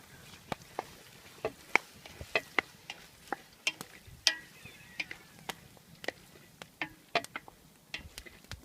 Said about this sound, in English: so onions are cooking, and now we've got all the meat going in